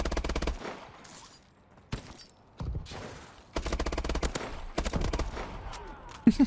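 Shotgun fire in Call of Duty: Advanced Warfare, a string of loud, punchy blasts, some in quick bursts with short gaps between, close and dominant with a brief clank near the end.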